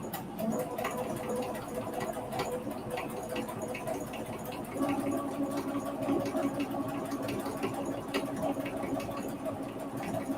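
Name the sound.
domestic sewing machine embroidering fabric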